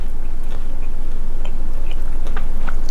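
Close, steady chewing of Isan fermented sausage eaten with pickled vegetables, wet crunchy bites and soft mouth clicks repeating irregularly over three seconds with a low background hum and no talking.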